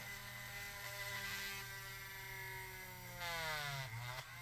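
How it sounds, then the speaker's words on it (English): A power drill bores straight down into the center of a plastic toy peg, giving a steady, fairly faint whine whose pitch sweeps and wavers toward the end, with no talking. "we are going to drill a hole straight down into the center of it"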